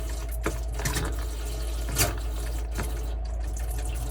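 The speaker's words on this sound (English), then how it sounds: "Just come to the tap and pull the water through." Water sputters and surges from a caravan tap as the pump pulls it through, with a few small coughs and bursts of air in the line, steady and close with no voices.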